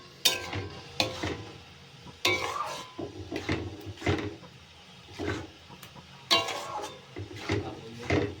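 Semolina cooking in milk in a pan is stirred on low heat, a spoon scraping and knocking against the pan in uneven bursts with soft sizzling between, close and moderately quiet.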